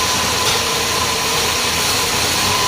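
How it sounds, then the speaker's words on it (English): A 1979 Chrysler Cordoba 300 engine idles with a steady, loud, close rumble and whoosh that holds even throughout. "I'll hold it idle if you want to get a screwdriver and run the idle up a little."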